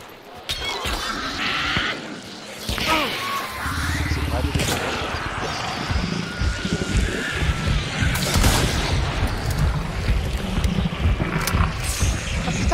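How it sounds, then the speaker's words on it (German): Firecracker blasts in the Hunt: Showdown video game, a rough run of sharp cracks and booming shatters over a dense, noisy game soundscape, with players talking throughout. "Der Böller."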